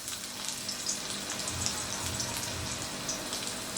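Ginger dropped into hot white oil in a pan, giving a steady, crackling sizzle with soft spitting pops throughout, fairly quiet and heard alone.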